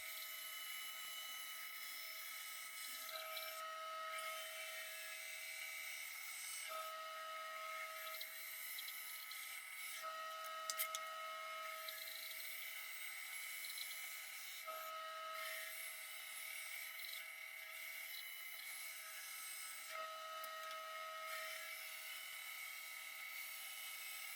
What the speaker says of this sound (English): I'll round out the handle so it's nice, and I'll round out the ends with the sander